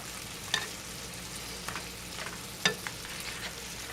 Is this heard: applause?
no